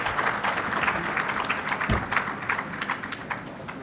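An audience at a defence conference inaugural session applauds, a steady dense wash of clapping that holds at moderate level for several seconds, with a single louder low thump partway through.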